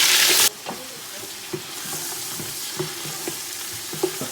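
Onions fry in hot oil with a steady close sizzle, punctuated by regular soft knocks of a utensil stirring the pan; a brief louder burst of hiss opens the moment.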